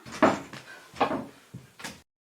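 A back door is worked open and shut, with several separate wooden knocks and scrapes in quick succession, close and moderately loud, then a sudden silence.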